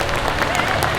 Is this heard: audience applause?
yes